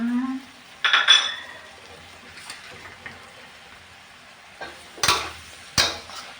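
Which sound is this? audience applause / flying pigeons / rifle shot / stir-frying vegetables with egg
stir-frying vegetables with egg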